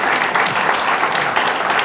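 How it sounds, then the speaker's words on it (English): A studio audience claps in a dense, even burst of applause, close and loud throughout the short stretch. "Yes, you can applaud."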